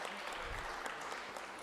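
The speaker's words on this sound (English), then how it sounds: "Please give a round of applause for this boy." Audience applause at a dental conference session, a short burst of steady clapping that stays fairly quiet and distant, with no speech over it.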